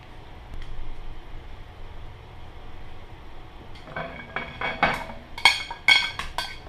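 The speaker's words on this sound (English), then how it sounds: "we stir that around and put our meat in." A whole lime's juice and beef are stirred together in a bowl: quiet scraping at first, then a run of clinks and knocks from the utensil against the bowl that grow louder toward the end.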